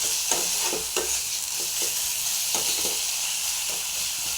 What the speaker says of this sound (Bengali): পুরো কষানো হয়ে গেছে, মানে তেল ছেড়ে দিচ্ছে।